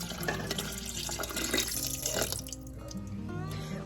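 Fresh lemon juice, nearly two cups from ten lemons, pours into a pot of strawberries for jam, a close, steady trickling and splashing stream of liquid with small drips as the flow eases toward the end.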